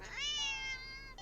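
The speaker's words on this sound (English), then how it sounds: "the cat meows sharply at you and dashes off around the corner" A single sharp cat meow, close and fairly loud, rising and then trailing off over about a second, with no other sounds around it.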